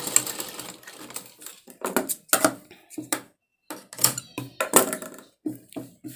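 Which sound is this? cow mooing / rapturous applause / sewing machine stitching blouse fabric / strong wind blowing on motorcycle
sewing machine stitching blouse fabric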